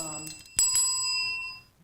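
A bicycle-style bell rings once, bright and close, its metallic tone fading over about a second after a short burst of voice.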